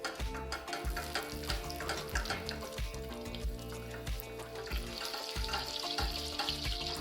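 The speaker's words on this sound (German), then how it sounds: "Wir erhitzen den Topf und geben 50 Gramm Butter hinein." Fifty grams of pure butter melts and begins to foam in a heated pot as the base of a béchamel for Spanish ham croquetas, giving a steady, close, fairly loud sizzle with frequent clatters and knocks layered over it.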